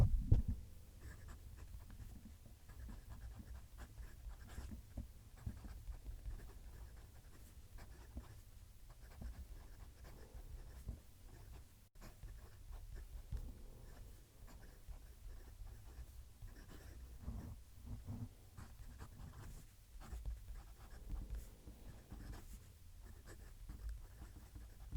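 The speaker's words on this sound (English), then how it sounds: "I'm going to just move the mic down to the paper so you can hear the pen writing" A Leonardo Momento Zero Grande fountain pen with a steel nib writes on lightly textured paper, giving a continuous close, soft scratching with small stroke-by-stroke bursts, alone and steady throughout.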